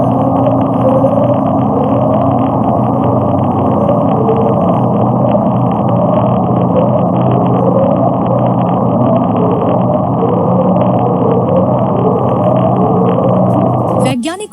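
Deep-ocean upsweep recording from the Pacific, a steady, loud low rumble with repeating rising tonal sweeps running throughout, cutting off abruptly at the end.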